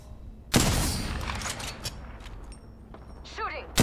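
Rapid bursts of gunfire in an Apex Legends trios match on the Kings Canyon map, loud and close, with sharp onsets and sustained shooting, while a player talks over the action.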